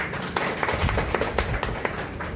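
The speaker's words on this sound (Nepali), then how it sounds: "जोरदार ताली अलिक पुगेन ताली।" An audience at a program in a branch office in Pokhara claps, with about a dozen separate, fairly sparse claps in an uneven rhythm rather than a dense ovation.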